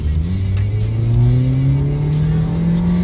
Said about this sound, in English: So here's the car before it had the cold intake.